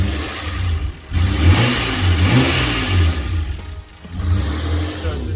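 Car engine running with a rattly, diesel-like clatter, revving up and settling in uneven surges, close and fairly loud, with no talk.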